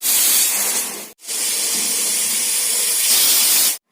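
A pressure cooker on a gas stove vents a loud, steady rush of hissing steam, close by and sustained, broken by two brief gaps.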